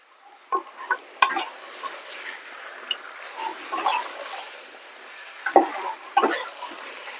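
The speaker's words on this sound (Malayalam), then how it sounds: "ഇതിങ്ങനെ വഴറ്റുന്ന എന്നാന്ന് വെച്ചാൽ ബീഫേലോട്ട് മസാല ഒന്ന് പിടിക്കട്ടെ എന്ന് വിചാരിച്ചിട്ടാ." Beef and masala sautéing for beef kurma, a soft frying sizzle with scattered spoon scrapes and stirring clatter, close and moderate.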